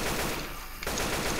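Rapid automatic gunfire in the zombie shooter Left 4 Dead 2, a dense continuous burst of shots that drops out briefly near the middle and then resumes, loud and close.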